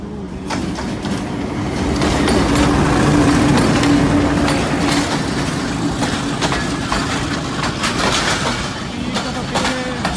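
A train runs through the historic Massan railway station after a token exchange, rolling past with a dense rumble, rattling wagons and rhythmic clicking, loud and close, with a voice talking over the noise.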